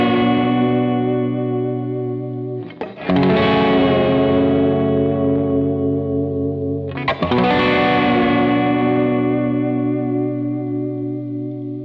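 Loud Gretsch electric guitar chords struck twice and held, the sustained tone shimmering and wavering in pitch from a Bigsby tremolo, with a thick, effected sound.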